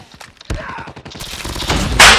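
Rapid bursts of gunfire from a Phoenix gun in a shooting video game, loud and close, with repeated shots building into a dense, harsh fusillade near the end.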